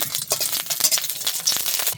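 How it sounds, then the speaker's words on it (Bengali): Dried red chillies fry in a pan for peas-leaf greens, giving a busy, crackling sizzle with quick stirring clicks, close and steady throughout, no voices. "শুকনো মরিচ ভেজে নিতেছে"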